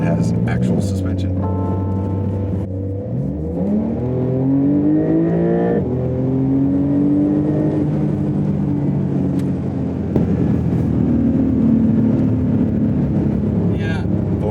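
A new four-wheel-drive Ferrari drives through sand dunes, its engine and exhaust droning steadily with rising and falling pitch as it accelerates. People talk over it the whole time.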